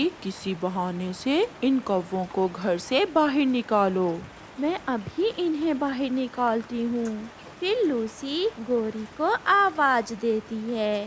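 Heavy rain in a Hindi cartoon makes a steady, soft hiss in the background beneath continuous narration and character dialogue.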